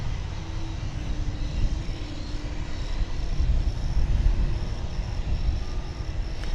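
A Boeing 777 approaches the runway at DFW Airport with a broad, distant jet roar that holds steady and builds slightly toward the middle, under outdoor wind noise.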